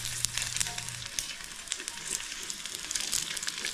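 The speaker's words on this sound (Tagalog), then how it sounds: "Tunog ng kawali." Food crackles and sizzles in a frying pan outdoors, dense irregular popping and spattering over a soft hiss, with a brief low hum at the start.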